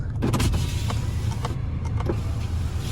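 An electric window regulator on a 2010 Ford S-Max 2.0 TDCi runs, giving a steady motor whine with faint creaks and clicks, close by in a quiet car, with no voices.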